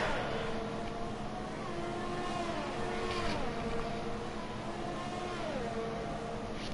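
Formula 2 race cars in an Austrian GP esports race, a steady whining engine drone with pitch sweeps as the cars come through the final corner, continuous under broadband track noise.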